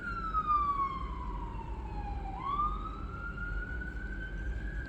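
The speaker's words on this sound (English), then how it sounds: "and then we got sirens going off again." A single siren wails in the distance, its tone sliding slowly down and then climbing back up over low background rumble.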